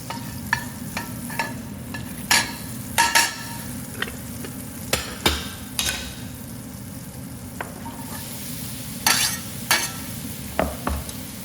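Onions caramelizing in butter in a pan, a steady low sizzle broken by repeated sharp scrapes and clacks of stirring, spaced irregularly throughout.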